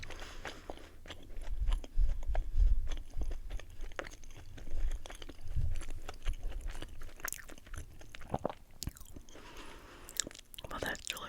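Close-miked chewing of a glazed Tim Hortons retro walnut crunch donut: crisp crunching bites and wet mastication repeat steadily, with quiet mouth sounds and faint breaths between them.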